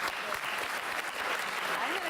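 Audience applause at a Q&A session, a dense, even patter of many hands clapping close by, sustained for the whole short stretch with a voice faintly underneath.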